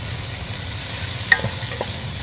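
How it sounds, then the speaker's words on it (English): Onions and garlic sizzle steadily in olive oil in a pan, a soft constant hiss broken by a couple of faint scrapes as they are stirred. "onions and garlic sauteing in olive oil"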